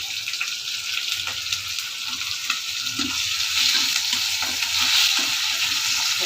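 Tomatoes, onions, green chillies and curry leaves sauté in a pan with a steady close sizzle, broken by a few soft clicks of stirring, with no one talking.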